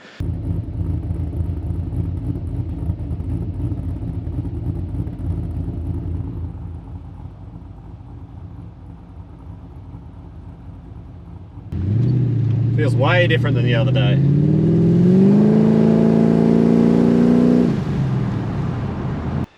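A car fitted with a complete OSPWarehouse cam kit, an exhaust and stock suspension, makes a drag run: a steady idle rumble under talk, then a loud engine launch that revs up through the gears for several seconds before cutting off.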